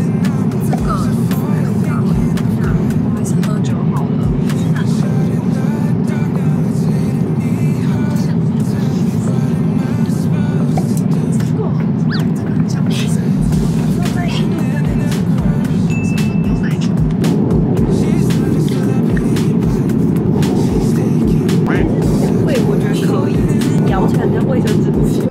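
Steady loud low roar of a Cathay Pacific airliner cabin during descent toward landing, constant engine and airflow drone throughout with faint scattered cabin sounds on top.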